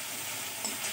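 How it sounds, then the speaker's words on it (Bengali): Steady close sizzling and hissing as ginger paste and fennel paste are stirred into hot frying spices for a fish curry, with a faint scrape of stirring in the pan. "আদা বাটা দিয়ে দেব। নেড়ে দেব।"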